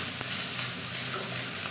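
Food frying in a pan, a dense, continuous close-up sizzle of hot oil with faint stirring, steady throughout.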